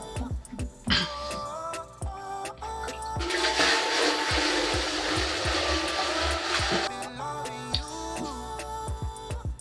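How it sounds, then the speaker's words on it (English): Cleaning solution pours into a stainless steel wine fermenter with its valves closed, a loud, steady gush of liquid splashing for several seconds between quieter clanks and handling noises. "we're going to take this cleaning mixture and dump it right into our fermenter"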